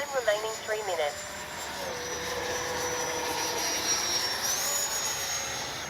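Freewing 90mm F/A-18C RC jet flying with a steady, loud electric ducted-fan whine that rises and shifts in pitch across the pass, with an outdoor airfield setting and a voice speaking briefly near the start.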